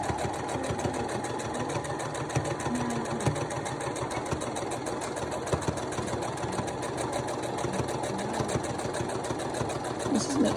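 A sewing machine runs continuously through layers of fleece for a quillo blanket-pillow, giving a steady, close, rattling motor hum that lasts the whole stretch without pause.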